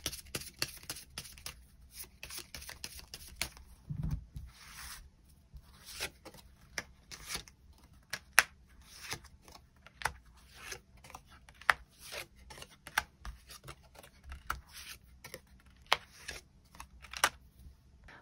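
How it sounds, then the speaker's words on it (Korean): Tarot cards being shuffled and drawn, a quiet run of crisp flicks, slides and sharp taps spread across the whole stretch, close by in a silent room with no voices. "카드 뽑아보도록 하겠습니다."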